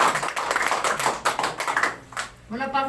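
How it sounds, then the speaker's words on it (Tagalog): A church congregation breaks into applause at the close of a prayer, a dense burst of clapping for about two seconds before it fades, with a voice coming in right after. "Palakpak!"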